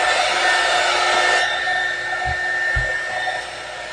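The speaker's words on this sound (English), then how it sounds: "I'm going to grab my handy dandy heat gun." A handheld heat gun blows hot air over paper in a craft journal session, a steady loud whooshing hiss that eases after the first moment and continues at a lower level, with a couple of soft thumps.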